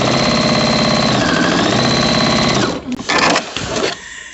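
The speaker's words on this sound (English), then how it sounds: "And that way I know I'm sewing right on the diagonal." Sewing machine stitching quilt binding on the diagonal, a loud, steady, fast mechanical hum with rapid needle rhythm that runs continuously before slowing and stopping into a few uneven bursts near the end.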